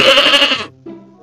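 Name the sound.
sheep bleating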